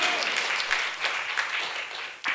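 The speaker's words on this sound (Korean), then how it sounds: "감사의 박수로 하나님께 할렐루야, 영광을, 할렐루야, 할렐루야." Congregation applause fills a church worship service, dense steady clapping from many hands throughout, fairly loud and close, with a brief swell near the end and no talk over it.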